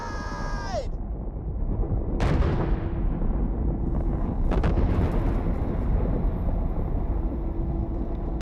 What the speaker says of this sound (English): we'll just watch Sanctuary get bombarded